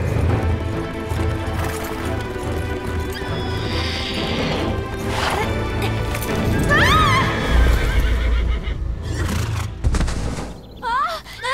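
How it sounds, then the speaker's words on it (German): A runaway horse on a ranch whinnies repeatedly with shrill, quavering calls over a busy clatter of hooves and thumps, loud and close throughout. "Dieses Pferd ist vollkommen außer Kontrolle."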